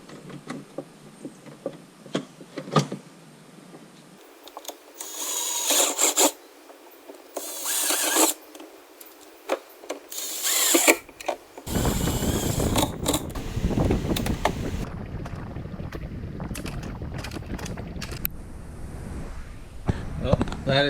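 A drill bores a 3/16-inch hole for pop rivets while mounting phone storage on a stand-up jet ski, with loud, rough, grinding bursts in the second half after scattered mechanical clicks and scrapes.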